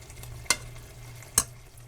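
Leftover Mexican squash dropped into a pan of spaghetti pasta, two sharp close clatters about a second apart over a faint steady sizzle, with no talking.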